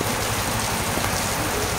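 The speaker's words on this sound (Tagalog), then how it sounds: "Ayan, umuulan talaga." Steady rain pours outdoors at an airgun shooting session, a dense, even hiss with fine patter that holds at the same level from start to finish, with no voices.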